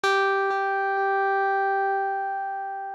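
A synthesizer patch with its oscillator dropped to play at the same pitch produces a steady, bright harmonic tone with soft repeated note attacks about every half second, sustained and gradually fading.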